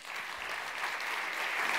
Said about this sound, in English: Let's have a big round of applause for Anne Purves